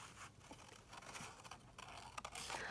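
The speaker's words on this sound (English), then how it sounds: "So I'm just going to cut this teapot out." Scissors cutting out a paper teapot image, faint close snips and papery scraping in short irregular bursts.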